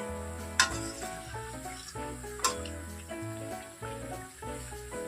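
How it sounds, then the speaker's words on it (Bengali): Semolina and potato snacks fry in hot oil with a continuous close sizzle, two sharp spatters and faint stirring, under steady background music. "আমি আবার এটা লৌটে দেব উল্টে পাল্টে এইরকম করে ভেজে নিতে হবে খুব ভালো করে"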